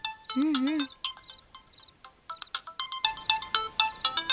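A mobile phone plays a melodic, chiming ringtone for an incoming call, a quick run of bright notes that pauses and then comes back denser and rhythmic, close and loud.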